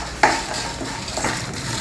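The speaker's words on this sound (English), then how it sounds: "Now we will dry roast them and then blend them into a slightly coarse powder in a mixing jar." Fenugreek seeds dry roasting in a pan are stirred with a steady scraping rustle, a continuous close gritty sizzle of seeds shifting over the hot metal, with a sharper scrape near the start.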